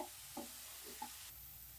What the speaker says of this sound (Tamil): வெங்காயம் லேசாக அந்த ஒரு பச்சை வாசனை போகிற அளவுக்கு வதக்கினா போதுங்க